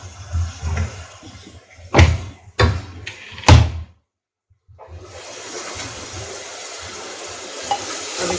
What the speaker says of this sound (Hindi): अब इसे अच्छे से भून लेंगे।